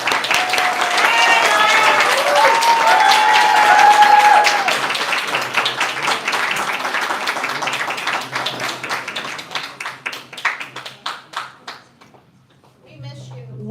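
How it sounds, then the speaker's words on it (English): An indoor audience at a government economic development announcement gives sustained applause, loud at first and then thinning out into scattered claps, with voices and a few cheers mixed in. "Let's give her a round of applause."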